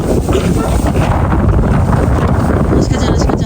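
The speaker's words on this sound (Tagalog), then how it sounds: "Ayan, malakas yung hangin." Strong wind in Nuuk, Greenland buffets the microphone in a steady, rough roar, with a few faint higher rustles near the end.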